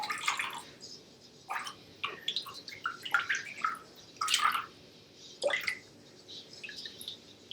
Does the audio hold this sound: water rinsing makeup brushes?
yes